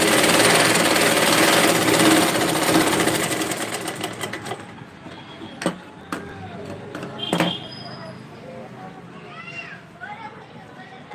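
Sewing machine stitching the side seams of a dress, a loud steady whir for about four seconds that fades out, followed by quieter handling sounds and speech.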